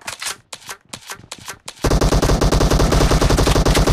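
Automatic gunfire from the mobile shooter Battlegrounds Mobile India in a team deathmatch: a few short bursts with gaps, then a loud, continuous stream of rapid shots that fills the rest of the clip.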